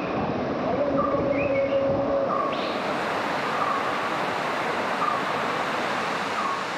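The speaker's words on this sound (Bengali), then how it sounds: "এই ধূপপানি ঝর্ণা" Dhuppani waterfall in the hills of Bilaichhari, Rangamati, pours with a dense, steady roar of rushing water, heard close and unbroken throughout.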